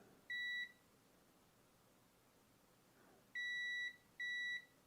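A £215 thermal camera under repair beeps three times, short clean electronic tones with a long gap before the last two close together, faint against a quiet room.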